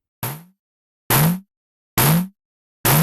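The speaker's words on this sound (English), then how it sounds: "All the way left implements a resonant high-pass filter tuned to the main oscillator." A Bastl Pizza Crust drum module plays through its resonant high-pass filter setting, four loud, evenly spaced hits, each a bright gritty burst with a short downward-sweeping tonal tail.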